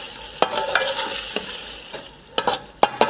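Lahori mutton karahi stirred after half a spoon of black pepper powder goes in: a steady frying sizzle under close, scraping stirs, with sharp clanks of the spoon against the karahi spaced through the mix.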